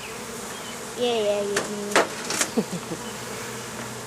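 Honeybees hum steadily through a hive inspection, a continuous close drone with brief clicks and knocks of hive parts; a voice speaks briefly over it.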